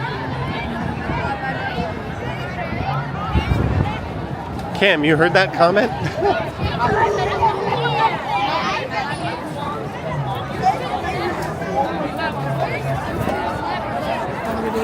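A crowd of school kids leaving a Toronto baseball stadium after a game, a steady hubbub of chatter and shuffling with close voices talking over it.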